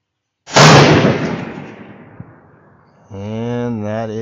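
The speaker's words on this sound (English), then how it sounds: "We'll see how the first shot goes." Rifle fired at a coyote target during a hunt: a single loud, close shot followed by a long decaying echo, then a voice speaking.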